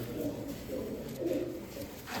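A large pure-bred pigeon in a loft coos in soft, low repeated rolls, faint and close, over a steady background hum.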